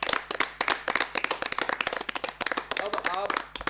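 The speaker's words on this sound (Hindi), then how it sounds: "तालियां आपके लिए बहुत जोरदार।" A crowd at a quiz competition claps for the second-place team, dense close applause running the whole time with a voice briefly speaking over it near the end.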